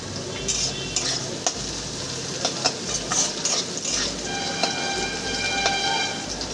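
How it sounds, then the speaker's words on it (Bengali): Potato pieces fry in a pan for Bengali shukto, a steady sizzle running throughout with occasional scraping and clinking stirs, close up and fairly quiet, no voices. "প্রায় আমার আলুটা ভাজা হয়ে এসেছে আর একটু ভাজলেই হয়ে যাবে"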